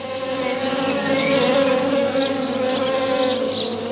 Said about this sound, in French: Alors arrivent les faux bourdons qui adorent le pollen du lierre et qui sont attirés par sa couleur jaune